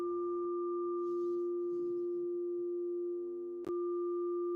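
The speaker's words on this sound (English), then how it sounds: "on the phone, I've got a little frequency generator so I can make particular tones of music" Pure electronic tones from a phone frequency generator app, a high note and a low note sounding together as steady sine tones, then the high tone cuts off with a click, leaving mostly the low note alone.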